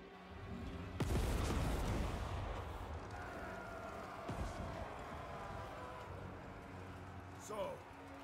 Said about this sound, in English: Cannons fire upon the defenders.